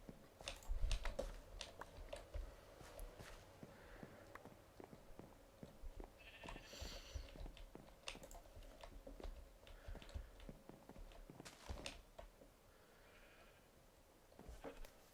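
Minecraft sheep bleat a few times over steady computer keyboard typing and mouse clicks, with the bleats moderately loud and spaced apart.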